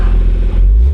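Turbocharged BMW F30 exhaust with the electric cutout open, a loud, close, steady deep rumble lasting about a second with no talk.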